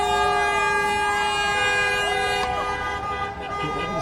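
Sustained car horns blare in several overlapping tones, loud and close, with steady traffic and crowd noise underneath, during an Oromo women's protest march in Saint Paul, Minnesota.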